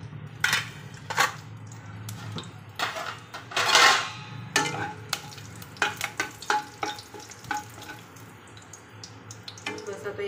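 Mustard and cumin seeds sizzling in hot oil on lowered gas while a spoon stirs, with repeated sharp crackling bursts and spoon clatter over a low steady hiss.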